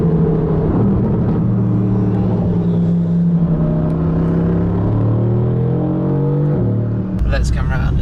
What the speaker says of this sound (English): It has to be turbocharged. There's so much whistle going on.